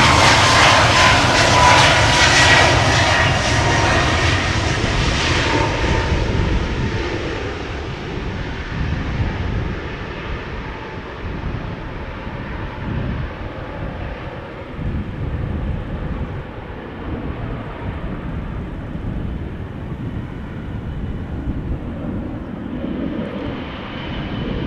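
A jet airliner roars on takeoff at Amsterdam Schiphol Airport, loud and close at first, then a broad rumble that slowly fades as it climbs away.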